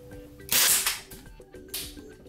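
A KWA USP airsoft gas pistol fires 0.32 gram rounds, giving two sharp, close pops about a second apart, each followed by a short hissing tail over a faint background.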